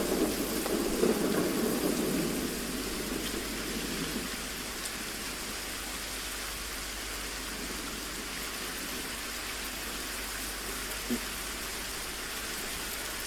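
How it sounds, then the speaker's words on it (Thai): Rain falls steadily as a dense, even hiss, with some murmured voices underneath during the first few seconds. "อุ๊ยฝนตกพอดี"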